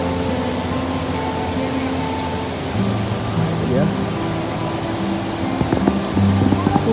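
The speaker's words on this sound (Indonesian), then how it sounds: "dan sekarang di sini hujan ya" Steady rain patters down beside a bridge in Bukit Lawang, a continuous hiss of drops on surfaces with a low hum and faint tones running underneath.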